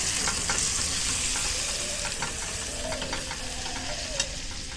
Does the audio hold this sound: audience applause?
no